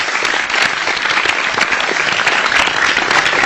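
Studio audience applauding on an Indonesian Dr Oz health talk show, steady dense clapping from a crowd without any voices over it.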